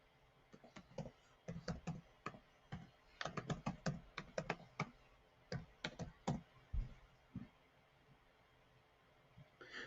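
Keys clatter on a computer keyboard as an email address is typed, a close series of quick irregular clicks in bursts over about seven seconds, then a pause and a final few taps, with no talking.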